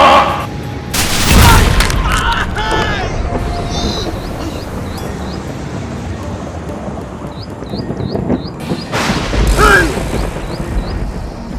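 In a Nollywood film scene, a volley of gunfire bursts out as loud booming cracks, followed by a low rumbling wash, a second heavy burst near the end, and faint high chirps in between.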